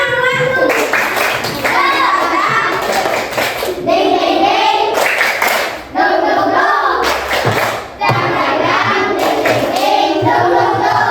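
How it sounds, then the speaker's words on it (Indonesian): A classroom of children stand and clap their hands together in a rhythmic ice-breaking clap game, with sharp bursts of clapping running under loud chanting voices throughout. "Tepuk semuanya."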